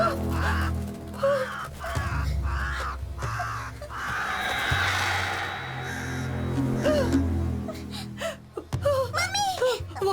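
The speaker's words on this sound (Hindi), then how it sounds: "बस एक कौवा है" A crow caws several times outdoors, harsh calls rising over loud, frightened voices talking and gasping throughout.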